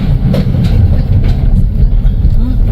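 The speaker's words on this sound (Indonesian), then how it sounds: "Oh, bener kereta guys." A heavy, low rumble of a Swiss train carrying cars rolling on rails, with faint rhythmic clicks over the steady drone.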